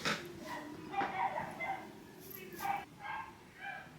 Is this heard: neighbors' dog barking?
yes